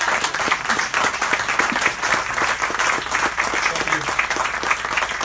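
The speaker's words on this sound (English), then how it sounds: "Let's give John a big round of applause." A bookstore audience at an author conversation event claps in a big round of applause, dense and continuous at fairly even loudness, with a faint voice briefly underneath.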